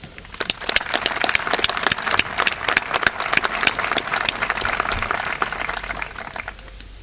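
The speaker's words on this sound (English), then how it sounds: "I think you'd all agree that a round of applause is well deserved." A graduation audience at a school ceremony breaks into sustained applause, dense overlapping handclaps filling the hall steadily for about seven seconds before beginning to thin out near the end.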